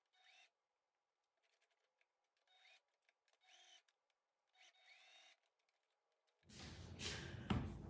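A sewing machine runs a straight lock stitch to attach a pocket onto a Henley bodysuit. Short, sparse bursts of stitching are followed by a louder, steady run of the machine at the end.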